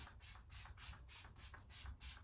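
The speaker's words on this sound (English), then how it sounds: "I notice it makes a better difference when I spray it on just like that." A Wet n Wild Fight Dirty setting spray is pumped onto a face in about seven quick, evenly spaced hissing bursts, close and fairly loud, with no talking.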